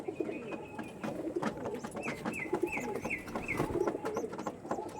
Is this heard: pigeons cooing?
yes